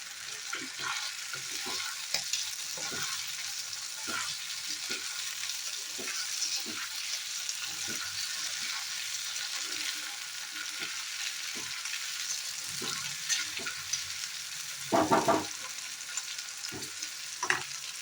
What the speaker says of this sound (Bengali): আগে ঢেঁড়সটা ভেজে ফেলতে হবে